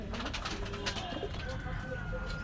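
Pigeons cooing at a pigeon shop in Gollamari, Khulna, soft low coos repeating among faint background murmur and a constant low hum.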